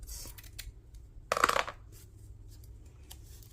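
Paper snipped with scissors, one short crisp cut near the middle, close and fairly loud against quiet background with a few faint rustles.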